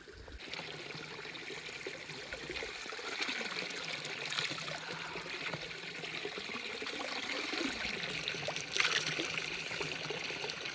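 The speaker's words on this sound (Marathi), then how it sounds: "बघू पाहू शकता पूर्ण वाहतं पाणी आहे" Mountain stream water flows steadily on the Harishchandragad trek via Pachnai, a continuous moderate trickle and rush with no voices over it.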